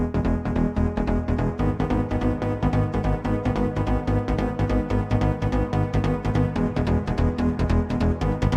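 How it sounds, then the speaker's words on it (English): Chord progression for a remix, sustained synth chords over a steady pulsing rhythmic pattern with deep low end, switching between two chords, loud and continuous with no speech. "For this remix I started with this chord progression which sounds like this."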